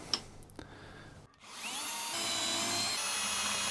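A power drill fitted with a 3.6mm bit bores a pilot hole in wood for a DIY lazy Susan, a short tap or two giving way to a steady, close whirring grind that holds to the end.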